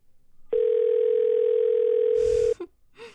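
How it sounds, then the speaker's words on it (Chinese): A telephone dial tone sounds as a steady, loud, pure tone for about two seconds, then cuts off with a click and a short rustle. "我现在就给谭总打电话，让他明天就来签约。"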